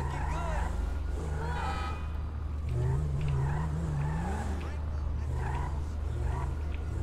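A Land Cruiser driven and parked in GTA 5 gives a steady low engine hum with slight revving, running continuously beneath ongoing conversation.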